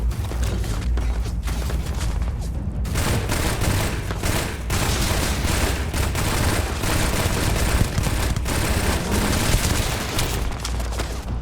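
Rifle fire in the video game Starfield: loud, sustained volleys of shots and blasts run almost continuously, with sharp individual reports cutting through a thick wall of battle noise.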